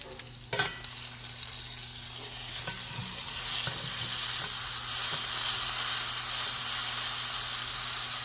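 Rack of lamb sears in a hot pan with a sharp clatter near the start as it is flipped, then a continuous loud sizzle and hiss that builds and holds steady.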